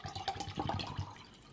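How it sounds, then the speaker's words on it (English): Water poured from a nearby supply into a beaker, a short splashing, gurgling pour with uneven bursts that taper off, close and moderately quiet. "We're gonna fill it up, the beaker,"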